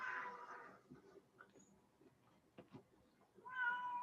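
A house cat meows indoors, a clear drawn-out call at the start and another at the end, with faint scattered room noises in between and no talking.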